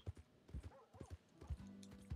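Hooves of a gray Mustang horse in Red Dead Redemption 2 clip-clop in quick irregular beats, close but faint, followed by a short whinny.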